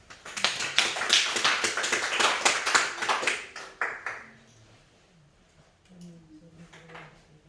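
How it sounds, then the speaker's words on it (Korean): Close, lively clapping from a Korean Sunday church congregation after the service ends, dense and rhythmic for about four seconds before it stops and a voice speaks. "주님 앞에 영광의 박수."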